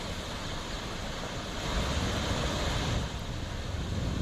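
The swollen Triveni river rushes near the Bisalpur dam in Tonk after record rains, a steady broadband roar of flowing water that swells slightly louder midway, with no voices.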